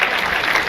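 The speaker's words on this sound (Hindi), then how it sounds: "एक बार जोरदार तालियां बजाएं उसके हौसले के लिए" An audience at a patriotic poetry recital bursts into dense, loud applause, a steady wash of clapping with no gaps.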